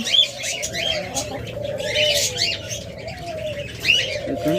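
Many budgerigars chirp and warble in busy, overlapping bursts at close range, with soft cooing mixed in the background.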